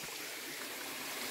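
Natural spring water trickling beside an Atlantic forest trail near a waterfall in Paranapiacaba, a steady soft hiss of running water with no pauses, quiet and even throughout.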